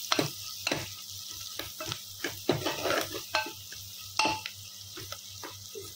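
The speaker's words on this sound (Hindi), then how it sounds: "और इन सबको अच्छे से पका देंगे।" Tomatoes and red chili cooking in a pan for rajma, a soft continuous sizzle broken by repeated scraping stirs of a spoon against the pan, close and without voices.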